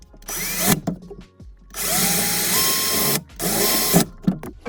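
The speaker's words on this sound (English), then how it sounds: "with our 1/4-inch drill bit, I'm gonna go ahead and drill a hole right here into the drain pipe" A power drill with a 1/4-inch bit drilling into a plastic drain pipe whirs in two sustained bursts, steady and close, with short pauses and handling clatter between runs.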